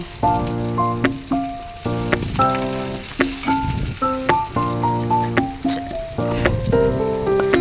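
Tomatoes fry in oil with onion, ginger and garlic, the base of an egg and potato curry. A loud, continuous sizzle runs throughout, with repeated tonal notes playing over it.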